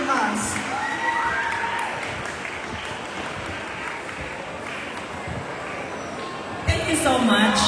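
Sustained audience applause for a birthday celebrant fills the room, dense steady clapping with crowd murmur throughout, swelling slightly louder near the end.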